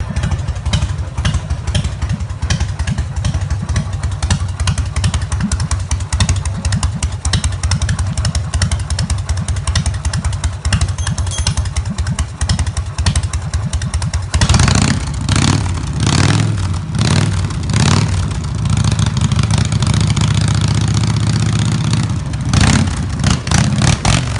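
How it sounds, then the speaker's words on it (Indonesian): A customized 1994 Harley-Davidson Evo Softail chopper engine runs up close, a loud, lumpy idle with a rapid rhythmic beat that shifts to a deeper, heavier rumble partway through. "motor custom yang udah kita custom dengan basic Harley Evo Softail tahun 1994"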